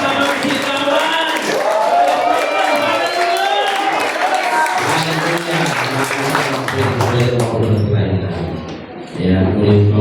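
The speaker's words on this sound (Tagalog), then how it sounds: "Isang malakas na palakpak para sa ating Diyos na buhay" A church congregation applauds loudly for God, the clapping mixed into a dense wash of shouting and cheering voices that runs through the whole stretch, with a brief dip near the end.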